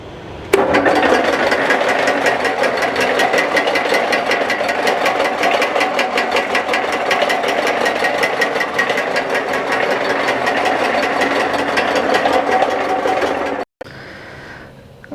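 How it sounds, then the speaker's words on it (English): A laboratory ball mill runs steadily, its steel balls tumbling and crushing material inside with a dense, continuous rattling churn that starts abruptly, holds loud and even for about thirteen seconds, then cuts off. "This is the ball mill available in our laboratory, and it uses mainly impact force and compression force to crush the material."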